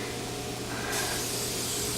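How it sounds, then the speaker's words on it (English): A can of cooking pan spray sprayed onto a griddle, giving a steady close hiss that grows slightly brighter partway through and runs for about two seconds. "We're going to use some pan spray"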